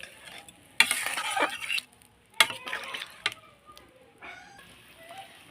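A spoon stirs a thinned fish curry with added water in a pan, giving several loud scraping, swishing bursts separated by quieter pauses, with a light sizzle underneath.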